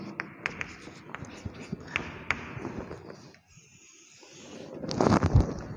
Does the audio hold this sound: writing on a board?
yes